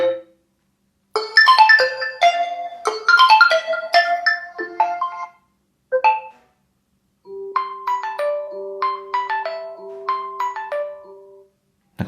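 An OPPO A6x smartphone plays its ringtone loudly and alone, a bright synthetic melody in quick bursts of chiming notes with short gaps, ending in a held tone and sparkling plucked phrases.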